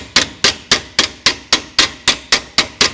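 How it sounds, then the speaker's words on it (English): Hammer striking metal on a piece of round bar to straighten a tubular section for a 1920s convertible top, eleven sharp ringing blows at an even, steady rhythm, loud and close with no talk. "just with the hammer on the piece of round bar"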